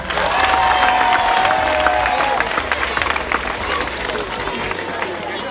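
In a village gathering, a crowd applauds and cheers the group TNT, loud clapping and shouts swelling at first then easing slightly, with a voice calling out over the noise.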